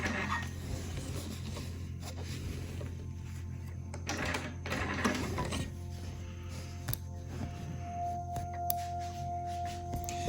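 A sewing machine quilting a wholecloth piece, stitching in the ditch, a quiet mechanical whir with light clicking and rattling that runs continuously and softly with no voices.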